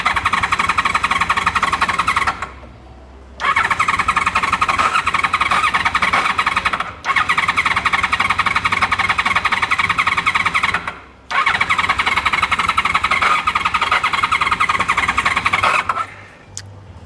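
A Honda VFR750 motorcycle engine cranks repeatedly in long loud bursts, with short silent gaps between attempts, close by.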